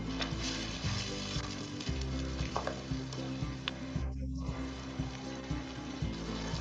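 Tomato paste sizzles steadily in a pan with cumin and ginger garlic paste over a medium flame, a continuous close frying hiss with occasional stirring scrapes for a dal makhani.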